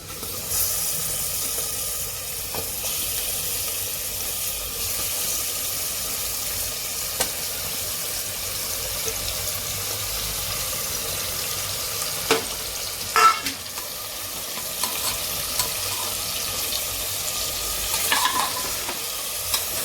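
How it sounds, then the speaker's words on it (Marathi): Mutton sizzles and fries in a hot pan for a spicy Kolhapuri-style dish, with a constant loud hiss, a few clinks and scrapes of stirring near the end, and no voices. "आता मी मटण टाकते"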